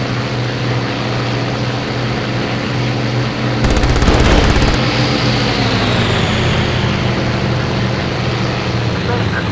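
Aircraft machine guns in a WWII air-combat video game fire one rapid, roughly second-long burst over the loud, steady drone of a propeller engine.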